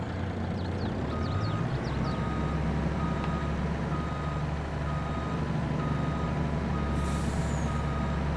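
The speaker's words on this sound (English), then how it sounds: "This is our America truck." Truck in the Farming Simulator 22 video game, a steady low diesel engine drone with repeated high reversing beeps, close and loud, and a brief air-brake hiss near the end.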